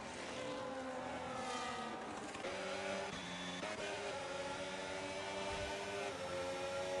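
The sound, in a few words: race cars, McLaren and Aston Martin, in a sim racing video game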